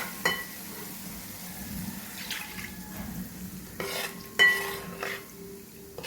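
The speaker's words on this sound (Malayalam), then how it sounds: "ഞാൻ ഈ മിക്സിയുടെ ജാറിലേക്ക് കുറച്ച് വെള്ളം ഒഴിച്ചൊന്ന് ഇതിലേക്ക് ഒഴിക്കാൻ പോവാണ്." Water from a mixer jar is poured into a simmering fish curry, a few splashing pours with clinks of the jar and pan amid soft bubbling kitchen noise.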